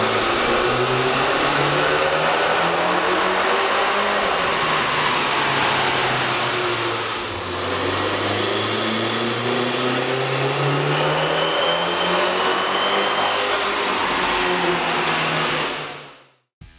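A Dodge Dart's 1.4L engine fitted with a K&N air intake revs up and down repeatedly, its loud, close mid-range drone rising and falling in pitch before cutting off near the end.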